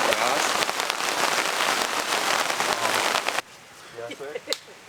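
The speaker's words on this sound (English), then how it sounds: "It's raining so hard." Heavy rain pours on a camp during an overland trip through elk country in Benezette, Pennsylvania, a loud steady hiss of drops on surfaces that cuts off abruptly near the end, leaving quieter scattered sounds.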